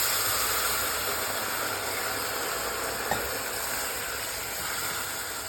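Wine goes into a hot pan and hisses with a steady, close sizzle that holds evenly throughout, with a faint clink partway through.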